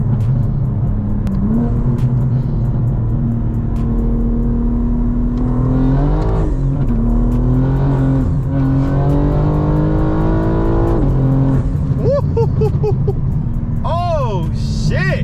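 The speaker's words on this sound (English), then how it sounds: "we were spinning the tires" BMW M4 with a JB4 boost tune accelerating hard, a loud steady engine drone climbing in pitch as the tires spin, with whining tire squeal rising near the end.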